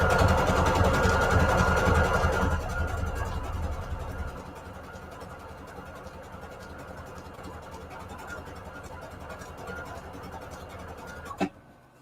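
A sewing machine stitches through junk journal paper pages, a close, steady mechanical whirr that drops to a quieter hum after a few seconds and ends with a single sharp click.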